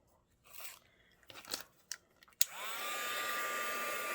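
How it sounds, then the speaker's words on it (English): A crafting heat tool switches on after a few rustles and taps, then blows with a steady, loud whirring hiss while setting embellishments on a card project. "Go ahead and heat set those."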